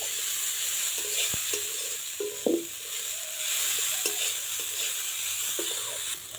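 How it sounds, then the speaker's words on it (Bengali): Poha (flattened rice) fries in a pan with a continuous bright sizzle while a spoon stirs it, scraping and clinking against the pan in irregular strokes, close and clear with no talk. "এটা এবার খুব ভালো করে নাড়িয়ে নেব 2-3 মিনিটের মতো, যাতে চিড়েটা খুব সুন্দর ভাজা হয়।"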